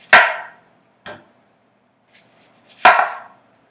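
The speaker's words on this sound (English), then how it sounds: "So first I cut off the 2 ends of the onion." A knife chops through the ends of an onion on a cutting board: three crisp, close thuds, the first and last strong and a softer one between, separated by quiet pauses.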